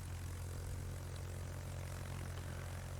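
Planes flying over the sea in World of Warships give off a constant low engine drone, an even propeller hum with no break and no talking.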